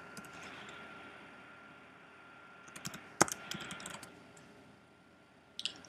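Computer keyboard typing while renaming a data flow: a short burst of close, light key clicks after a quiet stretch, then a few more taps at the end, with no talking.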